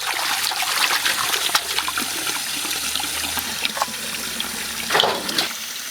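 Tap water running over vegetables such as tomatoes, peppers and mushrooms being rinsed clean of mud in a kitchen sink, a steady close splashing flow with bursts of sloshing as they are rubbed.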